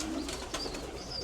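Racing pigeons in a loft give soft, low cooing close by, a warbling call repeating over a quiet background with faint rustling.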